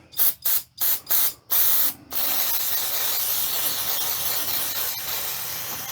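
Several short bursts of aerosol carb and choke cleaner spray hiss close by on a Losi 5T RC car engine, followed by one long continuous spray that gradually softens.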